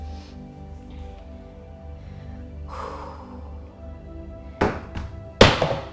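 A phone falls to the floor during a stretching session, two sharp thuds close together near the end after quiet breathing.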